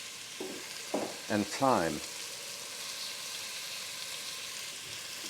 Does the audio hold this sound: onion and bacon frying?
yes